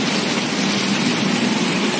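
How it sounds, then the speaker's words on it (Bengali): Heavy rain pours down on a flooded house and yard during a thunderstorm, a loud, constant hiss with no pauses. "এখনো খুব জোর বৃষ্টি হচ্ছে"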